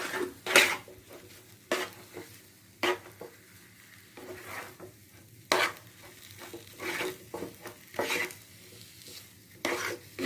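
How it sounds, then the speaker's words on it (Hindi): Modak dough being stirred and roasted in a pan, with repeated scraping, clinking stir strokes and a faint sizzle, irregular bursts every second or so, close up and without talk. "इसको हमें थोड़ा सा और भूनना है।"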